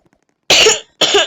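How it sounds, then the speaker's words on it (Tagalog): Two harsh coughs close to the microphone, the first longer, the second short after a brief pause. "Inuubo ako."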